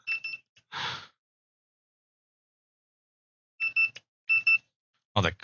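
A knife being torched is checked with a temperature device that gives short, clear electronic beeps in a few separate bursts, with brief bits of talk between them.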